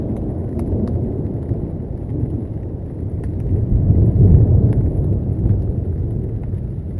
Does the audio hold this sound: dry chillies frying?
no